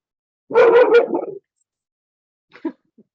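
A dog gives a short burst of close, loud barks and yips, followed after a pause by a couple of faint whimpering yelps.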